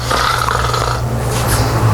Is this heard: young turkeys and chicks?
no